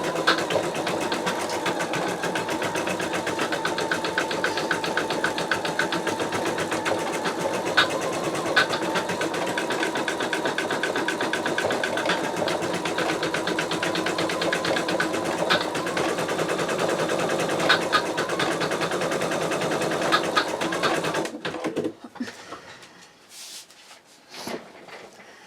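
Sew Tech VK362MK embroidery machine stitching with a 7x5 magnetic hoop, giving a steady, rapid mechanical whir and tapping close by that stops abruptly near the end and leaves faint handling noises.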